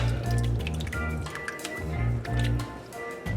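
Water splashes and drips over a miniature wargame model stripped of its paint, with wet squishing and trickling sounds that come in short, uneven bursts close to the microphone.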